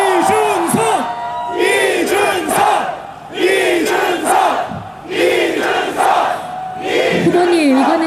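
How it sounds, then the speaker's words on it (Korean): A large crowd at an outdoor political rally in Seoul for candidate Lee Jun-seok roars and chants in loud, rhythmic collective shouts, repeated bursts rising and falling with brief dips between them. "여러분 박수와 함성을 보내주십시오"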